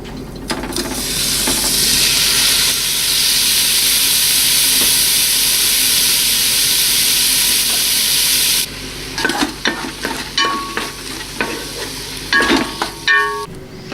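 Beef hits hot olive oil in a Dutch oven with a loud, steady sizzling hiss, then the sizzle cuts off, leaving clanks and scraping from the pot.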